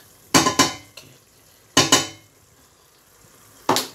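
Vegetable soup being stirred in a pot with salt added, giving three or four clattering bursts of a spoon scraping and knocking against the pot, separated by quiet gaps.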